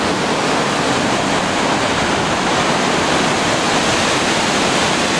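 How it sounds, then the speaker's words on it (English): The main branch of the Boulder River near Big Timber, Montana rushes beneath a bridge, a loud, steady, broadband roar of turbulent water that fills the whole stretch without pause or voices. "this is the main branch of the Boulder River. This is not flood stage. I'm standing on a bridge that crosses the river."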